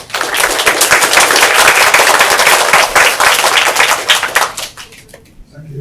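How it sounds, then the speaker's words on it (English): A seminar audience applauding a speaker with dense, loud clapping that holds steady for several seconds, then thins out and fades near the end. "Let's give a big applause for Dr."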